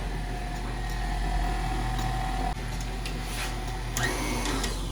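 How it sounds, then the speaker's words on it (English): A stand mixer runs at low speed through ginger stout cake batter, giving a steady, loud motor whir and hum that continues unbroken throughout, with no talking. "now your mixer is locked, it's all in place, and now this is a low speed."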